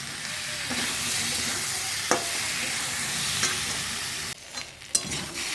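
Spiced masala with chili powder sautéing in a pan while potato and pointed gourd go in, giving a steady close sizzle with occasional spoon scrapes and knocks, then a brief dip and a sharp clink near the end.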